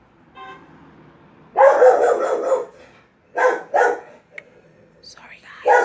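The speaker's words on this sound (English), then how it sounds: "excuse my dog." A pet dog barks at someone at the door in a few loud, close bursts, with a short bark at the start, a long run of barking, then two more bursts and a final one. Faint talk sits underneath.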